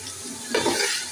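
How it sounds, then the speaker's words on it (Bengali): Onions frying in a pan for chicken biryani sizzle briefly, then a spatula stirs them with a scraping clatter as the sizzle swells, all within about a second. "এগুলো ভেজে নিচ্ছি, ভেজে তারপরে মশলা দিয়ে নেব।"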